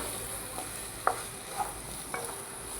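Onions fry in oil left over from frying prawns, a steady moderate sizzle broken by a few sharp clinks of a spoon stirring the pan.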